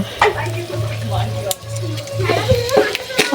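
Dried red chillies and a bay leaf sizzle steadily in hot oil in a wok, a loud continuous crackle broken by a few sharp pops and utensil clinks.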